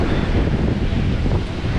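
Stormy sea surf at the beach in Dzhemete, Anapa roars as a constant loud wash of waves, heavily mixed with wind buffeting the microphone, with no voices.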